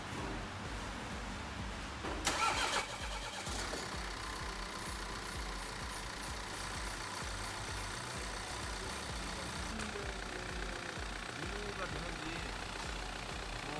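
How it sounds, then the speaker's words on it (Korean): A BMW engine, after a fuel misfuelling repair, cranks briefly with a harsh burst, then settles into a steady low idle that continues throughout, with faint talk in the background. "시동을 걸어보도록 하겠습니다."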